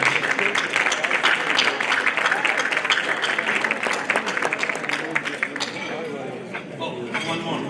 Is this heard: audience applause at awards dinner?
yes